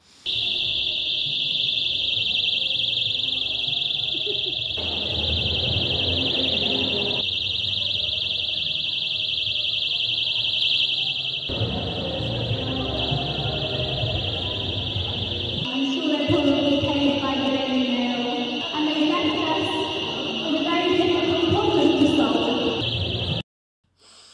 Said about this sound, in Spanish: una alarma yo diría bastante, bastante ruidosa, bastante escandalosa